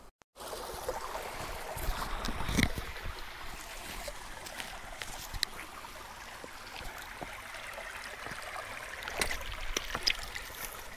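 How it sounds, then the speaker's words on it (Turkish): Small mountain stream in a Trabzon highland plateau, a steady broadband rush of flowing water with scattered clicks and splashes, fairly quiet and continuous. "Birazcık suyun sesini alacağız inşallah."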